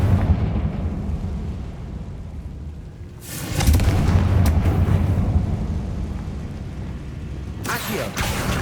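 A Confringo fire spell explodes in Hogwarts Legacy, with two loud, deep booming blasts that swell and rumble over a continuous busy game soundscape.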